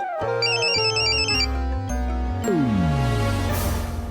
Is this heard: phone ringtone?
yes